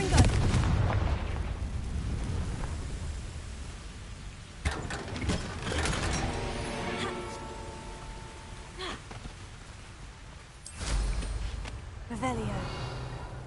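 A Confringo fire spell cast in Hogwarts Legacy on PS5 lands as a series of loud explosive bursts and crackling blasts, with a sharp new impact near the end, while a voice talks over the action.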